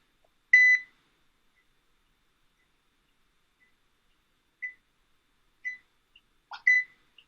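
A microwave oven gives short electronic beeps: one longer tone, then a few brief scattered beeps, each clean and isolated against silence.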